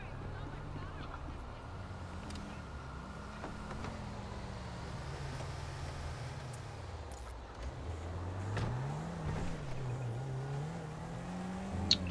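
A car in the GTA 5 video game driving and revving, a low engine hum that rises and falls with throttle, steady and moderately loud throughout, with a brief sharper sound near the end.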